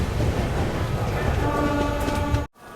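The Baba Baidyanath Dham Express rolls into Madhupur Junction with a dense, steady rumble of rail cars and wheel noise, faint tonal squeals rising near the end before an abrupt cut.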